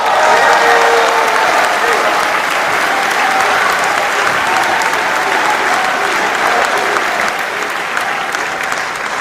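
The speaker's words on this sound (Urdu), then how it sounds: "آپ سب کی بھرپور تالیوں میں تہذیب حافظ صاحب." Sustained loud applause from a large audience at a mushaira in Dubai, greeting the poet Tehzeeb Hafi, dense and steady throughout without pause.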